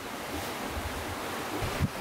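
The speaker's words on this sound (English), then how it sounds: "See how the waves move me around?" Ocean waves wash around a small boat at sea at night, a soft, steady rush with wind buffeting the microphone and one brief louder splash near the end.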